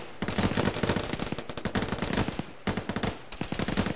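Sustained automatic gunfire rattles in rapid bursts, suppressing a bunker in a ShackTac military video game, loud and near with two brief pauses between strings of shots.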